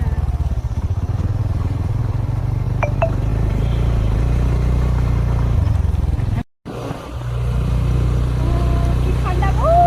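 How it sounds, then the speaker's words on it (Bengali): A scooter rides along with a steady, loud engine drone and wind rumble, briefly cutting out before picking up again. Voices can be heard speaking over the engine. "অনেকদিন পর স্কুটি চালাচ্ছে"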